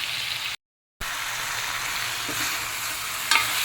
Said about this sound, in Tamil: இந்த வெங்காயம் தக்காளி ரெண்டுமே நல்லா மசிய வெந்துடணும்